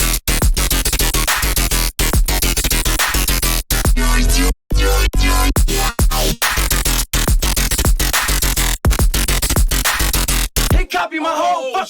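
A wet riddim dubstep loop built on a Razor synth patch: loud, dense electronic music with heavy bass and a repeating choppy rhythm, broken by brief dropouts and a short gap near the middle.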